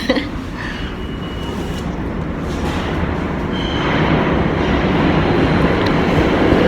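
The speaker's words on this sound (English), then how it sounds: "But I'm about to go on this train." Steady rumbling train noise fills a train station, a low rolling drone that swells gradually louder, with faint metallic squeaks on top and no talking.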